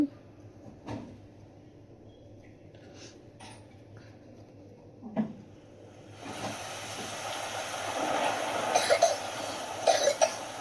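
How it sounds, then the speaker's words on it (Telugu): A few sharp coughs at a distance, spaced apart over quiet room tone, followed by a rising wash of background noise. "సేమ్ నాకులాగే దగ్గుతున్నారు ఎవరు"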